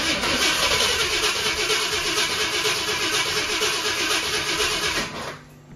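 A 1966 Ford Thunderbird V8, being started for the first time in years on old gas, cranks and catches into a steady, loud running engine roar close by, then drops abruptly quieter near the end.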